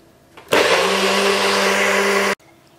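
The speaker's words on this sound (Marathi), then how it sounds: "आतां आमी हो मसाला वांटया." A mixer grinder blending green chilli curry masala for a Goan egg curry made with coconut milk, running in one loud, steady whirring burst of nearly two seconds that cuts off abruptly, with quiet before and after.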